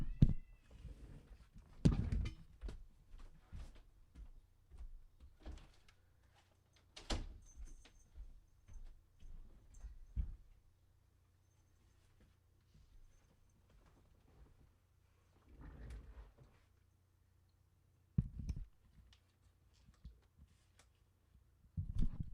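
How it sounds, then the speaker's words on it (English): A cat paws and scratches at a door, bursts of thumps, rattles and scraping separated by quiet gaps, fairly close. "She was clawing on my door and screeching."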